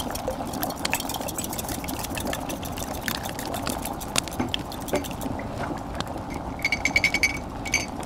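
A spoon stirs hot cocoa in a cauldron, a continuous liquid swishing and sloshing with faint clinks, steady throughout and louder near the end.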